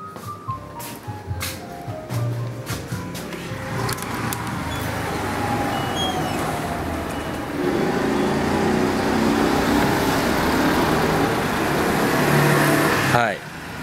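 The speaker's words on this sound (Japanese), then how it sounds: "今たまたま車はパッと走りましたけど" A car drives past on a quiet Sunday street, its engine and tire noise swelling steadily and lingering for several seconds, heard at moderate distance over outdoor ambience.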